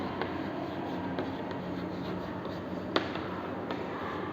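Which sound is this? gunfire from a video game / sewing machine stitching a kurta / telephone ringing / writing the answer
writing the answer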